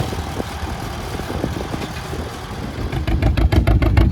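A straight Farmall M tractor pulls a John Deere 44 plow in a vintage small plow class at a plowing contest in South Dakota, its engine chugging steadily at mid distance and growing louder and more rhythmic toward the end.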